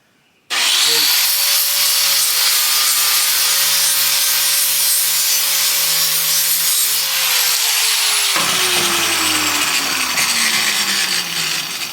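In a shop, a power grinder spins up suddenly and runs with a loud, steady high-pitched whine and abrasive grinding for several seconds, then spools down with a falling whine while it keeps running a little longer.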